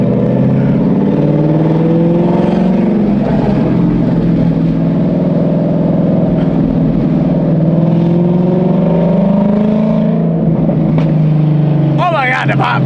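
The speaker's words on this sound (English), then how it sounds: "Oh my God. The drone in here is crazy. Oh my God, the downshifts are amazing too." Ford Mustang S197 with its exhaust removed drones loudly from inside the cabin, a deep steady engine roar rising and falling through revs and downshifts, with a person speaking over it.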